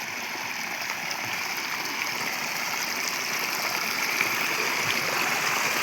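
Water runs steadily through a small village stream, a continuous close rushing and trickling wash that holds even and unbroken throughout with no voices.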